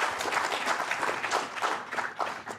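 Conference attendees at an investment arbitration session clap to welcome a panelist. The applause is loud, dense and continuous, with no speech over it.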